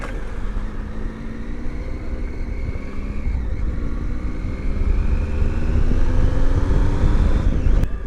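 A car's engine and road rumble build steadily as it swings off-road to overtake a tanker on a highway between Bhopal and Jaipur, with harmonic engine drone and wind buffeting, loud and continuous throughout.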